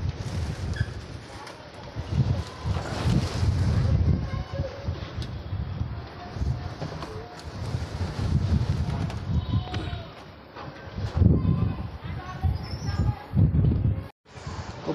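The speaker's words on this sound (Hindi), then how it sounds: "भाई बहुत तेज आंधी तूफान आ गया है, ये देख रहे हवा बहुत तेज चल रही है" Strong wind during a storm with light drizzle, a loud gusting roar with heavy low rumble buffeting the microphone, rising and falling in waves for the whole stretch.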